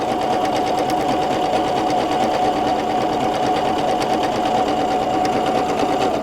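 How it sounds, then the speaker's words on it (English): A PFAFF ambition 610 sewing machine stitches decorative patterns, its motor running steadily and close up with a continuous, even whir and no talk. "I'm going to turn, restart my stitch, and start sewing."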